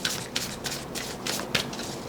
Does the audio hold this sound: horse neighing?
no